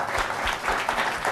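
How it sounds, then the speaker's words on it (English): A room of audience members at a library event in Soweto applauding themselves, a brief, dense wash of steady clapping with no speech over it. "So please give yourselves a round of applause."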